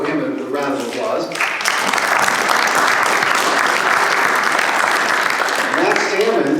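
Town hall audience in Las Vegas bursting into loud applause for a congressman, a speaker's voice trailing off as sustained, dense clapping fills the room for several seconds.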